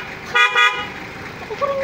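Kostef extreme loud horn fitted to a Mitsubishi Adventure, giving one short bright honk of about half a second, close and loud, with a faint second tone and background chatter around it.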